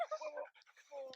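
Puppy panting in quick, breathy bursts close by, with a short whimpery sound near the end.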